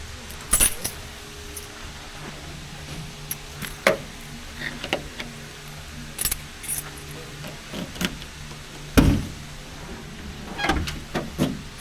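Keys for a 1973 Buick Centurion jangle in short, sharp bursts, with quieter clicks and handling noises between them, close by and with no talk.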